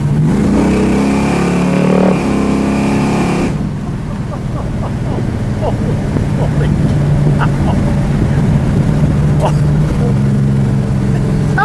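A 1965 Dodge Coronet 426 Race Hemi tribute accelerating from inside the car, a loud engine roar that climbs and then settles into a rougher rumble, with people talking over it.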